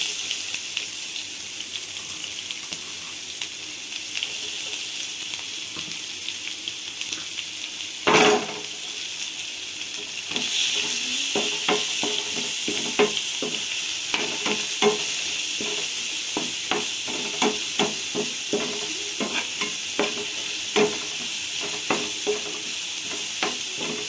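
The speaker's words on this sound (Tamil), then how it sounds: "இப்போ வெங்காயத்தை போடுவோம்." Onions frying in a pan for tomato thokku, with a steady close sizzle and a rhythm of spoon scrapes and taps that grows busier after a sharp clatter partway through, no voices.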